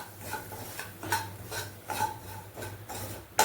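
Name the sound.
stirring semolina (rava) in a pan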